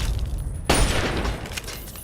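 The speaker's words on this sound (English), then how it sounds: "don't know what that explosion was" A sudden loud explosion bursts in the video game Fallout 3 after a short stretch of quieter ambience, followed by a rumbling decay with scattered crackles.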